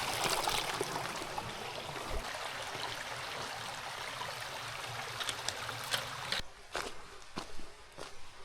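A river rushes past a rope-assisted crossing on a Snowdonia hiking trail, a steady broadband flow heard close, with footsteps and light knocks over it. The water noise drops away toward the end.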